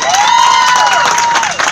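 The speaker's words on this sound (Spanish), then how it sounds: "para quien pido un fuerte aplauso" Loud applause and cheering from a school crowd honouring the director of an educational centre at a pedagogical innovation fair, a dense burst of clapping and shouts with a sustained tone over it.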